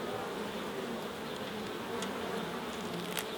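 Honeybees buzz steadily inside a hive during a swarm-prevention inspection, a dense continuous hum with a few brief sharper passes close by and no talking.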